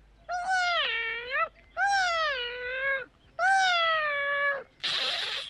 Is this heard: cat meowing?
yes